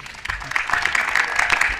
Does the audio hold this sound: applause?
yes